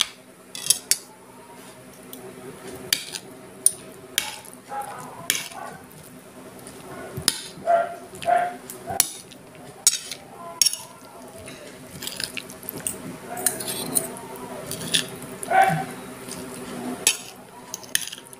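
A vegetable salad dressed with mayo is tossed in a bowl: a long run of close, irregular wet squelches and utensil clicks against the bowl, with quieter pauses between bursts of mixing.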